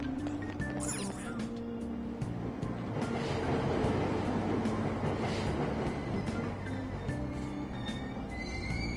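A train in Persona 5 Royal pulls away from the station, a steady rolling rumble and mechanical hum with faint clicks, moderately quiet and continuous.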